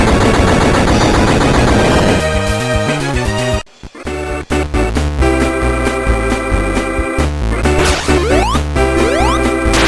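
Rockets fired by the metal boss in the Sonic Advance game, rapid loud bursts and booms over driving chiptune music, with a short drop partway through before the barrage resumes.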